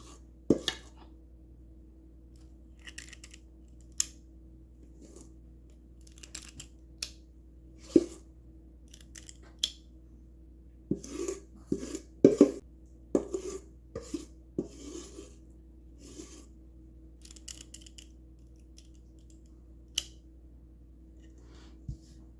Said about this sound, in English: we're gonna scoop that last little bit of my homemade cookie dough here